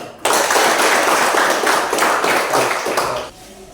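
A Grade 10A classroom full of students claps together in a short burst of dense, loud, close applause lasting about three seconds before stopping abruptly.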